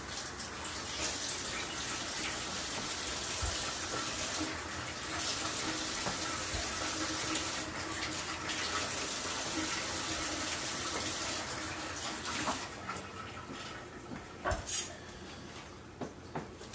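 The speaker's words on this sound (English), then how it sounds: "I'm just going to give these peaches a quick wash." Tap water runs steadily into a bowl as peaches are rinsed, a soft, continuous splash with a few brief clinks and bumps near the end.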